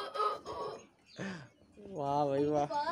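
A rooster crows in a long, drawn-out, wavering call near the end, preceded by shorter squawking or voice-like sounds at close range.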